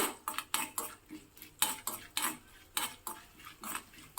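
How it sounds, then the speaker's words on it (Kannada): Cumin seeds and black peppercorns dry-roasting in a pan, heard as a quick series of sharp metallic scrapes and clinks from a spoon stirring against the pan, close and with no voices. "ಒಂದು ಅರ್ಧ ಚಮಚ ಜೀರಿಗೆ, ಇದನ್ನು ಚೆನ್ನಾಗಿ ಹುರ್ಕೋಬೇಕು."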